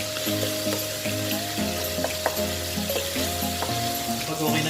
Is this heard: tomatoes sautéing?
yes